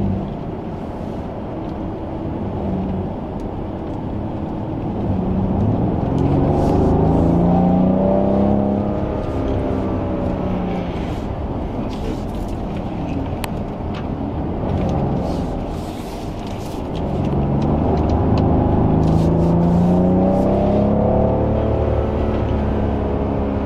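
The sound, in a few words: Rolls Royce car driving on a racetrack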